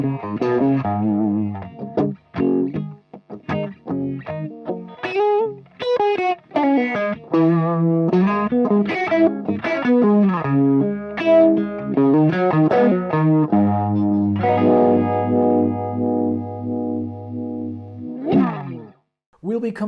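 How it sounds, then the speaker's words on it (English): Electric guitar run through a fuzz pedal and a uni-vibe in a pedal setup, playing a distorted, swirling lead phrase that ends on a long sustained chord, alone and up close. "For these sound samples, the fuzz and the uni-vibe's preamp are always on."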